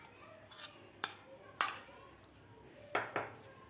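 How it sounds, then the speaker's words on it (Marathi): Metal spoon clinking and scraping against a pan while ghee is mixed into roasted gram flour for laddoos, a few sharp taps spaced out over a soft stirring background. "तर व्यवस्थित आपल्याला तूप पिठामध्ये मिक्स करायचं आहे"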